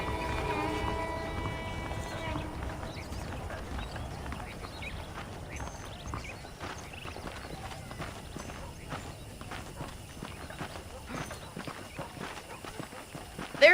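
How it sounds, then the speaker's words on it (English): Horse hooves clip-clop at a walk in the video game Red Dead Redemption, a steady rhythm of moderate, fairly close hoofbeats continuing throughout, with a brief tonal sound early on. "The horses are saddled up over here."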